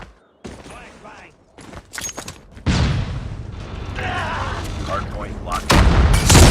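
A flashbang grenade goes off in a Call of Duty Mobile ranked hardpoint match, a sharp burst followed by a sustained loud ringing wash, with in-game voice callouts and other game noise around it.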